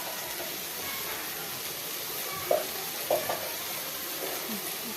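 Tomatoes frying in a pan give a steady, close sizzle for a ridge gourd stir-fry, broken by a few light knocks of stirring.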